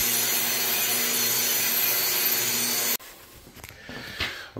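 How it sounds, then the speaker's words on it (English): A grinder works a concrete slab subfloor, a loud, steady abrasive roar that cuts off abruptly partway through, followed by quieter scraping and handling noises. "let the grinder do the work"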